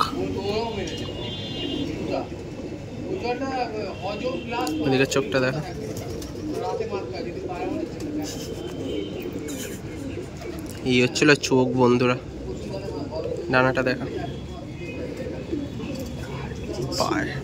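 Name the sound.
Owl Face Madras pigeons cooing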